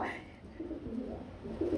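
Pigeons from a breeder's stock cooing at moderate volume, with low murmuring coos repeating throughout the short stretch against a faint background.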